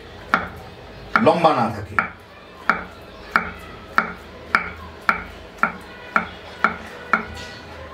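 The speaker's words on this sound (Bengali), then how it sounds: "এভাবে কেটে কেটে কেটে কেটে সমস্ত আঁশগুলো যাতে টুকরা টুকরা হয়ে যায়।" A knife chops roasted eggplant finely on a board for mutabbal or baba ghanoush: a steady, close series of about a dozen sharp, evenly spaced chops, with someone speaking briefly over the opening strokes.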